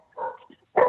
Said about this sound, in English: Sorry, there's my dog.